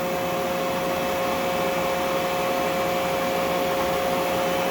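A Union BFT 105 CNC horizontal boring mill spindle runs at around 300 RPM, a steady, loud broadband whir with constant tonal hum lines and no breaks or speech.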